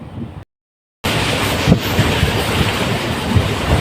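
The Punalur Madurai Express passenger train rumbles along steadily with wind roar and faint rail clatter after a brief cut to silence, loud and close from on board.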